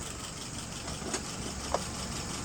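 A WO 596S engine idles at about 600 RPM as a steady low rumble, close and fairly quiet, with two faint brief clicks over it and no talk.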